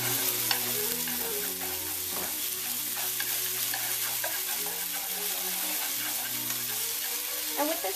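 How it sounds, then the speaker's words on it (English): Filling for Vietnamese banh cuon stuffed rice rolls fries steadily in a pan, a continuous close sizzle broken by scraping stirs throughout, with no voices. "Let it fry up."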